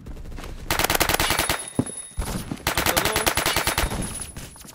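Rapid automatic fire in the shooter game Phantom Forces: two long bursts of fast, loud shots, split by a brief pause with a single heavier bang.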